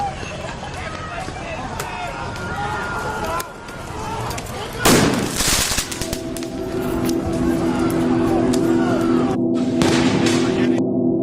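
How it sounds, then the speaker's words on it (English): Fireworks burst during an attack on the White House, with sharp cracks and a loud bang ringing out amid crowd noise and someone talking over the scene. "Fireworks."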